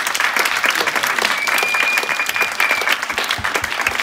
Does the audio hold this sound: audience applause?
yes